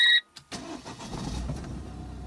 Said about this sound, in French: Là je vais démarrer le moteur